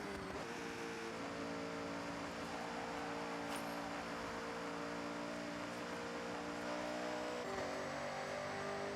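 Toyota Supra Mark IV RZ driving in Forza Horizon 6, its engine holding a steady mid-rev drone with layered harmonics and a brief shift near the end, close and continuous with no voices.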